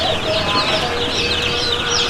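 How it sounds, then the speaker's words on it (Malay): Village chicken chicks in a commercial coop, a continuous loud chorus of high overlapping peeping and clucking from many birds close by. "Ini pun ada anak ayam kampung asli"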